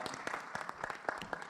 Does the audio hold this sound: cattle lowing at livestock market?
no